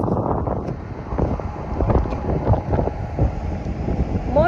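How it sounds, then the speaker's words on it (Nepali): Strong gusting wind buffets the microphone outdoors at the BAPS Hindu Mandir in Abu Dhabi, a continuous loud low rumble with uneven surges throughout and no clear speech. "धेरै हावा चलिरहेछ।"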